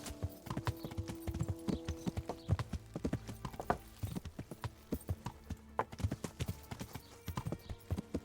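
Horse hooves clip-clop steadily through a town in Kingdom Come: Deliverance, a medieval role-playing game, with an occasional whinny in the mix.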